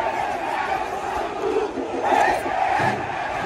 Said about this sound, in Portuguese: Torcida protestando contra o Hélio.